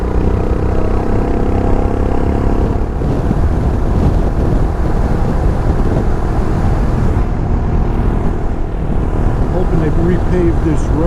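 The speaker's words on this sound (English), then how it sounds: "Feel the crosswind coming across my helmet. It's fairly strong today." Strong crosswind buffeting a rider's helmet on a 2023 Royal Enfield Himalayan motorcycle, a loud continuous roaring rush throughout, with a low engine drone and a voice talking underneath.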